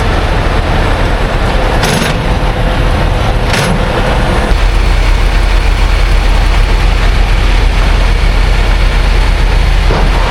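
A truck engine drones loud and steady at close range with a heavy low rumble, with a couple of brief sharper bursts early on and a lower, smoother roar in the second half.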